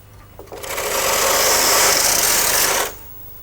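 A Brother KH950i knitting machine carriage makes one steady, loud mechanical whirring pass of about two seconds across the needle bed, starting and stopping cleanly, with no voices.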